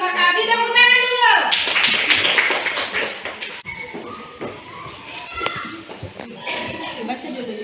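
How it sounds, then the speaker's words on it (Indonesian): A classroom of students applauds after a short-story writing lesson, a burst of clapping following a teacher's voice, with desk thumps, taps and children's chatter continuing underneath. "Tepuk tangan dulu."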